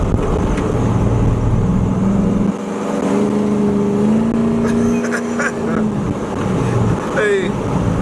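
A small block V8 in a short bed street truck on 22-inch wheels cruises along, a steady low engine drone swelling once with some throttle, heard from inside the cab, with people talking over it.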